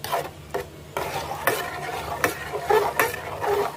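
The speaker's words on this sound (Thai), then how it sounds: "เราก็ต้องค่อยๆเคี่ยวไปนะครับผม จนตัวข้าวเหนียวนะครับ เข้ากับ ส่วนผสมของเรานะครับผมที่ เคี่ยวกันไว้นะครับ" Stirring sticky rice simmering in a pot, with repeated scraping and sticky swishing strokes of a utensil against the pot, close and fairly loud over a soft bubbling background.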